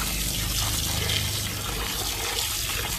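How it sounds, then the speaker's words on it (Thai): Water being poured out after a third rinse of raw beef during preparation of sun-dried beef, a steady loud rush and splash of liquid that runs continuously and close, with no speech. "โอเคครับเดี๋ยวทิ้งน้ำไปเลยนะครับน้ำที่3นะครับ"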